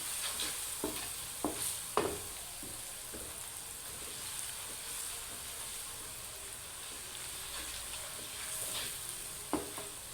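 Vegetables being stirred with chili powder and salt in a hot pan, a steady close sizzle and hiss under occasional sharp scrapes and clinks of a spoon against the pan.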